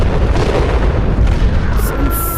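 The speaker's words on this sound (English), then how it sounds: "Crazy, we just blew up." A single explosion in the VR game Animal Company, a loud, dense low rumble that fills the whole short stretch and stays heavy throughout without a clear decay.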